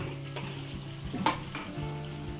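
Onions sauté in a pan with a steady sizzle, broken by a few stirring scrapes and one sharper clink near the middle, close and moderately loud with no talk.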